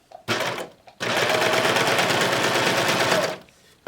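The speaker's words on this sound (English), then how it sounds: "And then I am just going to simply stitch this." A serger sewing machine with a cording foot stitches cord into fabric, running in a short burst and then in a loud, steady, rapid whir for about two and a half seconds before stopping.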